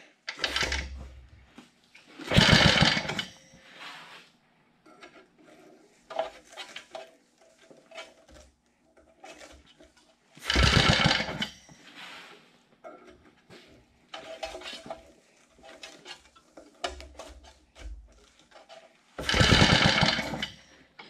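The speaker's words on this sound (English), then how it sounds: "I'm going to take a couple pulls to prime the carb, provided I made my gasket right." A small carbureted engine is pull-started again and again with choke on and half throttle, giving several loud bursts of cord pull and rough turning separated by quieter clinks and handling noises, with no voices.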